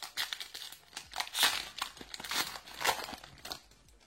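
Foil Yu-Gi-Oh! Code of the Duelist booster pack being torn open: close, continuous crinkling and crackling of the wrapper in irregular bursts.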